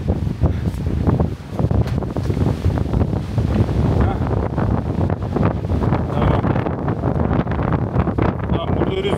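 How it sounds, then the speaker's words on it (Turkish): Strong wind blows on a Sri Lankan beach, roaring into the microphone as a loud, continuous low rumble with surf mixed in, and no talk. "burada rüzgar çok fazla"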